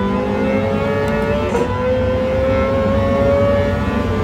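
Car engine revving hard in the racing video game Gran Turismo 7, heard through a cinema sound system: a loud, steady, rising engine drone that holds alone throughout without any talk.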